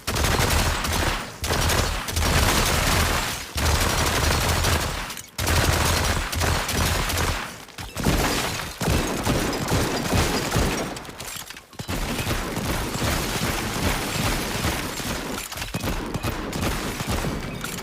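Video game gunfire in the Subway Nightmare level, dense sustained bursts of automatic shots and booms rattling almost without pause, loud and busy, broken only by brief gaps.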